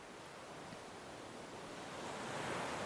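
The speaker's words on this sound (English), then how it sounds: "So I sat down, listened to the surf a bit" Ocean surf rolls continuously onto a sandy beach in a broad, steady wash that swells slightly louder toward the end, with a light breeze and no voices.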